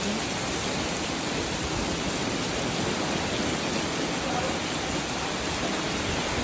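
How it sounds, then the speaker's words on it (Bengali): Heavy rain pours over a river swollen with rainwater, a dense, steady hiss of downpour and rushing water that stays loud and unbroken throughout, with no voices. "বৃষ্টির পানিতে নদীর পানি থই থই করছে"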